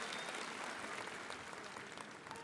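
Audience applause for Vajpayee at a convention for Muslims in Talkatora Stadium, New Delhi: dense, steady clapping from a large crowd that holds at an even level throughout, with no voices over it.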